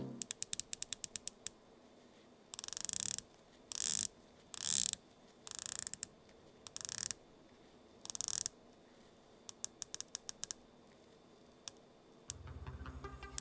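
The bezel of an Oris Divers 65 watch being turned in bursts, giving quick runs of soft, crisp ratcheting clicks separated by short pauses, close up and otherwise quiet.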